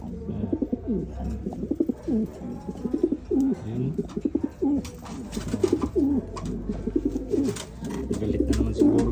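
Racing pigeons coo again and again in soft, throaty bursts, several birds close by overlapping in an uneven rhythm, with a voice speaking briefly.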